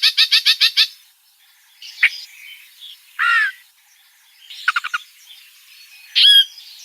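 A bird sings in separate bursts: a quick series of sharp notes, then buzzy trills and whistled phrases with short silent gaps, clear and close.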